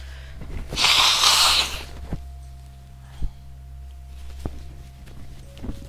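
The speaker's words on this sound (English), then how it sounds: "I'm just gonna hit escape so I can blow my nose." A person blows their nose once in a loud, close burst lasting about a second, followed by a few faint sniffs and small knocks against a steady low hum.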